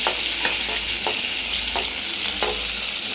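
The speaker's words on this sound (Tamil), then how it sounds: "இப்போ வந்து சின்ன வெங்காயம் கொஞ்சோண்டு தக்காளி கொத்தமல்லி பச்சை மிளகா எல்லாத்தையும் போட்டு வதக்கணும்" Shallots, tomato, coriander and green chilli sautéing in a pan, close and loud: a dense hiss of frying with a spoon scraping the pan in a regular rhythm, about every half second, and no voices.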